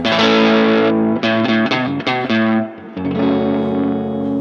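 An Airline electric guitar played on its neck pickup, with strummed chords and quick single-note picking ringing out loud and warm with a slightly driven, effected tone before a final sustained chord.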